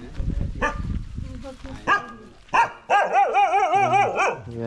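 Dog barking in a garden at a homestay in Galle, Sri Lanka, with several close, sharp barks and yips, the last ones drawn out and wavering toward a howl, heard alongside people talking nearby.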